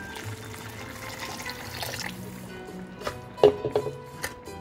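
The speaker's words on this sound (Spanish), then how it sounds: "Vamos a ponerle más agua." Water is poured into a pot of chicken and rice cooking on the stove, a quiet trickle and splash that grows into a few louder sloshing bursts near the end.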